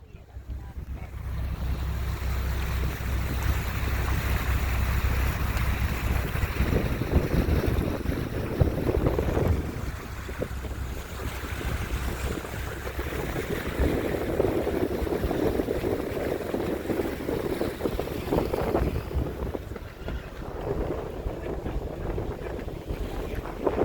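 Tour boat underway on the Kennebec River in Maine, with a low engine rumble, water rushing along the hull and heavy wind buffeting, continuous throughout with faint voices underneath.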